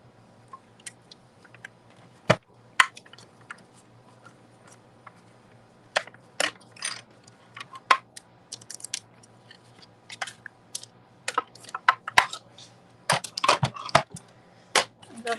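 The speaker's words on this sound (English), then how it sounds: "I love my little mini Stampin' Cut and Emboss machine" A mini Stampin' Cut and Emboss machine cutting a cardstock banner, with scattered sharp clicks and crunchy ratcheting bursts that grow denser toward the end, close and fairly crisp over a quiet hum.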